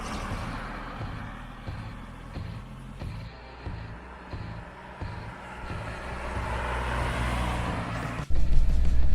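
A 2019 Audi Q3 drives through city streets, heard from inside the cabin as a steady low engine and road rumble with soft bumps, growing louder toward the end.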